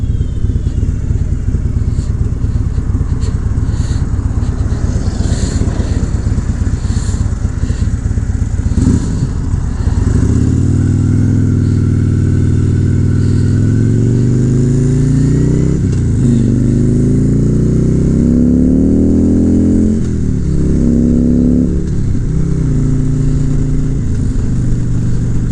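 A Harley Davidson motorcycle with a ported high output 103 engine out on a ride, loud steady engine rumble with wind roar, rising and falling through gear changes.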